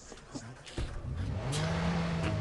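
A car in the video game Watch Dogs pulls off: a brief skid, then a loud engine note climbing as it accelerates and holds a steady drone.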